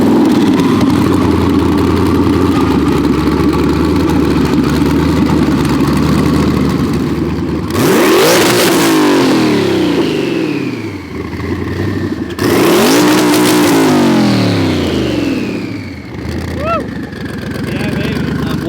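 A twin-turbo Cadillac CTS-V with a 427ci LSX engine idles loudly, then gives two sharp revs that climb and fall back, with turbo whistle trailing off between them.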